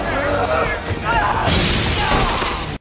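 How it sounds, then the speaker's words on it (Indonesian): Window glass shatters with a loud, bright crash and scattering fragments during a fight scene, overlapping dramatic background sound and a voice, then cutting off abruptly. "Mendengar suara kaca pecah, Nathan dan Kevin terkejut dan segera datang"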